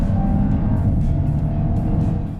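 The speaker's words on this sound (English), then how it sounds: "the exhaust note has the addictive growl and makes every downshift feel" A deep, rumbling exhaust growl from a Skoda Octavia VRS engine, steady and loud throughout, fading slightly at the end.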